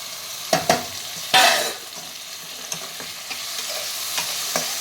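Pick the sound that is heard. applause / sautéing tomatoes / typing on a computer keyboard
sautéing tomatoes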